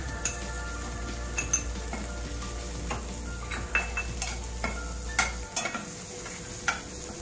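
Chopped tomatoes go into capsicum frying in a pan for corn paneer pav bhaji and get stirred, with a steady close sizzle broken by repeated light scrapes and clinks of a spoon against the pan.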